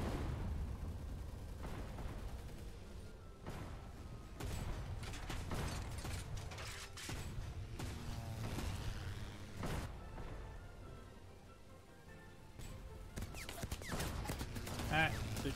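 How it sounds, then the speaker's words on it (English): Airship cannons fire repeatedly during an airship assault on a volcano in a video game, with irregular booming shots and mechanical clatter under a busy, continuous game soundscape. "All hands on the cannons."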